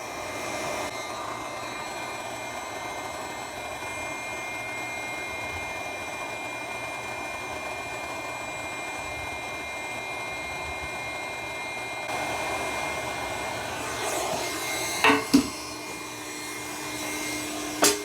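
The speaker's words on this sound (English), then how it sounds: "Now let's give it a try with our induction heater" An induction heater hums steadily as it heats a stuck, rusty bolt, a constant electrical drone with tonal whine that intensifies partway through, broken near the end by a few sharp clicks.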